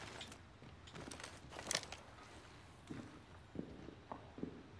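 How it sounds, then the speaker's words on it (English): Footsteps in a shooter video game near an open door, a series of soft, uneven thuds and scuffs spread across the moment, fairly faint against the game's background noise. "I hear footsteps."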